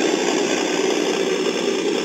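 Simulated engine rumble from the sound module in a TRX4 Sport RC truck, a steady continuous idling drone with a faint mechanical buzz, fairly loud and uninterrupted, with no talking.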